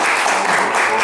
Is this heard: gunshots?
no